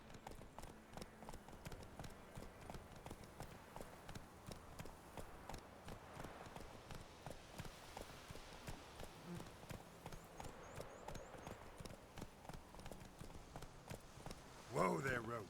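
Roach, the horse in The Witcher 3, gallops with rapid, even clip-clop hoofbeats over a faint, moody backdrop, with a brief louder jolt near the end.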